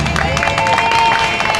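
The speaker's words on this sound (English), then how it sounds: "Can you give them another round of applause?" A crowd at a county youth program event breaks into a short burst of clapping and cheering, loud and close, with a voice tone running through the middle.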